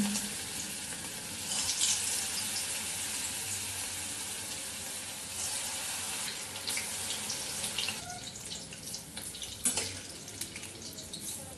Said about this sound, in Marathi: आता आपल्याला हे मध्यम आचेवरच हे बॉल्स तळायचे आहेत। यामध्ये हे फ्राय करून घेऊया।